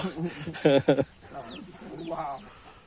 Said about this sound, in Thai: นี่ครับเล้าไก่